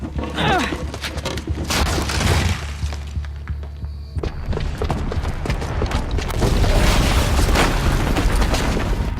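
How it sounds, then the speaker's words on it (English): A booby-trapped bomb goes off in Horizon Zero Dawn in the city of Meridian, a deep boom with shattering, crumbling debris, followed by continued rumbling and clattering; loud and close. "the booby trap on the bomb downstairs is gonna get set off"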